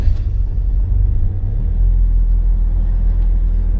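An MG ZS car engine starts and settles into a steady, deep idle rumble, close and fairly loud, with no voices.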